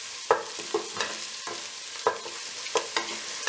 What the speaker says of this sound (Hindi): अब इसके अंदर मैं डाल दूंगी गार्लिक चॉप किया हुआ, इसे भी हम 1 से 2 मिनट जो है इसके साथ ही सॉटे करेंगे